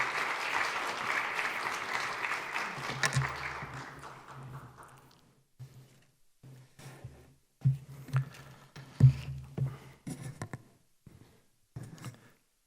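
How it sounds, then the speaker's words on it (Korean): A church congregation claps warmly to welcome a guest pastor, loud applause fading out over the first few seconds, followed by quiet shuffling, tapping and handling sounds near the microphone. "목사님께 따뜻한 박수로 맞이하겠습니다"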